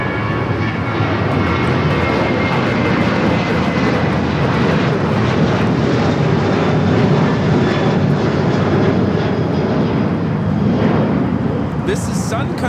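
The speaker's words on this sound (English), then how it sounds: "This is Sun Country Airlines, flight 8711, taking off to Austin on the 737-800." A Sun Country Airlines Boeing 737-800 takes off at Los Angeles LAX with a loud, sustained jet-engine roar that holds steady throughout. Radio chatter and voices sound faintly beneath it.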